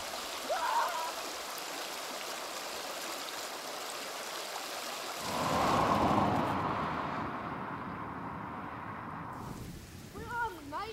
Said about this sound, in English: In some places, the river is fast and very shallow.